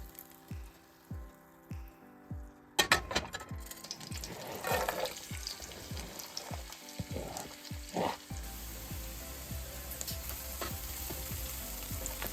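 Minced garlic, half a tablespoon, hits a hot pan and sizzles steadily, with clattering stirring and scraping of utensils early on before settling into a continuous close frying hiss.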